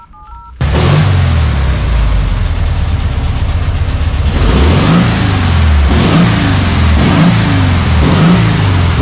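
A 1967 Volkswagen Beetle with a rear-mounted engine starts and revs loudly nearby, the engine note swelling and dropping in several repeated throttle blips over a steady running drone.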